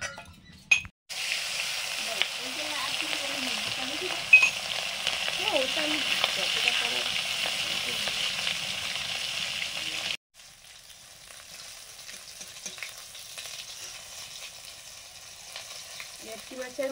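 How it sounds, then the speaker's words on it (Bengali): Bhetki fish head rubbed with salt and turmeric fries in oil in a wok, a steady close sizzle with occasional stirring and utensil clinks, briefly cut off midway before a quieter spatter resumes. "ভেটকি মাছের মাথা নুন হলুদ মাখিয়ে নিয়েছি, ভেজে নেব।"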